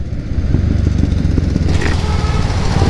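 A motorcycle with a detached gear lever rides along on a wet road after light rain, its engine a loud, steady rumbling drone close by throughout, with no talking.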